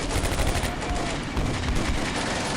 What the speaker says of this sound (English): Mortar, machine gun, maybe a rifle grenade or two.